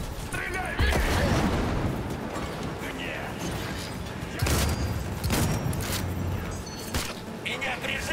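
Repeated heavy shotgun blasts in Cyberpunk 2077, several booming shots spaced a second or two apart amid chaotic combat noise, with players talking excitedly over the fire.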